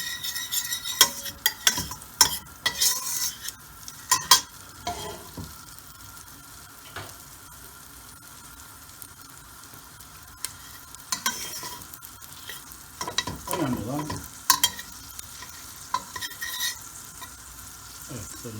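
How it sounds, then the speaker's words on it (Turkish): Garlic fries in a pan under a soft, constant sizzle while a utensil stirs and scrapes it in bursts, with clusters of sharp scraping strokes separated by quieter stretches of plain frying. "sarımsakları biraz şimdi hemen biraz çevireceğim"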